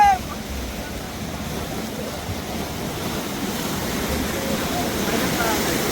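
Floodwater of the Ib river surges near a bridge after a dam opening, a constant broad roar of rushing water heard up close with gusty wind buffeting the microphone.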